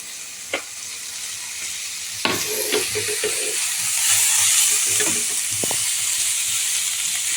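Onions sautéing in a pan while preparing a raw banana egg poriyal, a steady sizzling hiss with scattered spoon scrapes and clinks, rising slightly partway through, with no talking.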